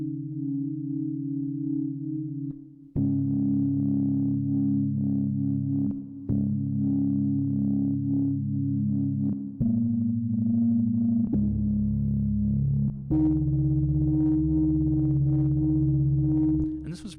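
A soft, narrow synth patch made of two sine waves in Reaper plays a series of sustained tones, each held a couple of seconds before stepping to a new pitch, smooth and loud with no voice.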